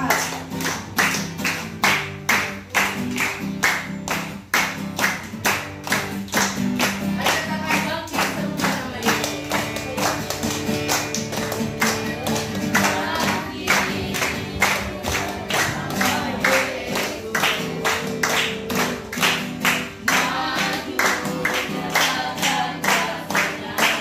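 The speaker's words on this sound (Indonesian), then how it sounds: "Oke, mari kita memuji Tuhan sama-sama. 3, 2, 1 ya. Semua tepuk tangan." A church congregation on a remote island claps together in praise, a steady, brisk rhythm of sharp hand claps sustained for about twenty seconds with faint crowd noise beneath.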